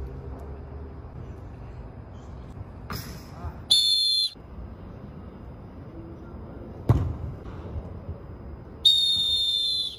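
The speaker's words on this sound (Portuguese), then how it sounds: "Joga sua bola e eu apito!" Referee's whistle blasts at an amateur football match, two short bright bursts around the middle and end, sounding fairly close over crowd noise and scattered shouting.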